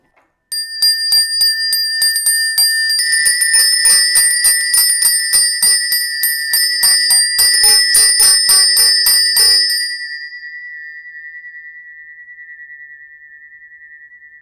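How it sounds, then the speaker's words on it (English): Space clearing bells give a rapid run of bright, ringing strikes that stops abruptly, leaving one clear tone to hum and fade on its own. "you can use space clearing bells if you have them"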